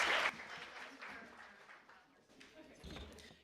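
Audience applause for student journalism award nominees, winners and sponsors at the 2024 FOX61 Student News Awards, a burst of clapping that fades into a softer, sustained patter.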